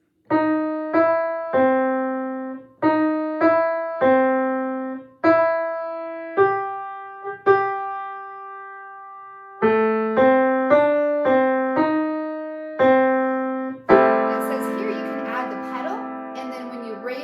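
Piano notes played in short repeated chords and held tones, a steady phrase with sustained notes, ending in a fuller, louder chord passage.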